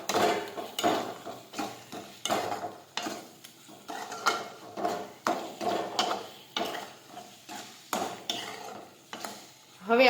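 Ganthiya tomato curry stirred in a pan after sugar and salt go in, with repeated scraping and clinking of a spoon against the metal and a soft sizzle underneath, rhythmic strokes close by, no voices.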